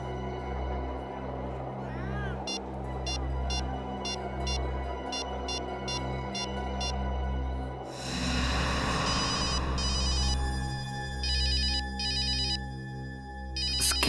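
A telephone ringtone chirps in short repeated bursts, then a louder, denser electronic ring pattern takes over, heard over a low steady hum in an indoor scene.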